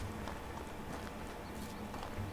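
Donkeys trot in the Medieval Dynasty video game, a steady stream of hoof clip-clops under a dense, noisy game soundscape with no speech.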